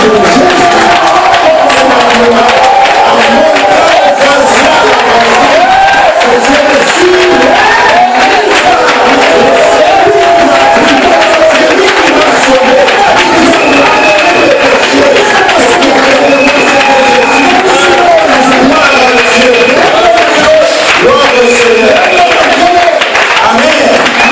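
A large crowd cheering and acclaiming with continuous loud roaring, shouts and clapping that stay steady and dense throughout, filling the space with no breaks.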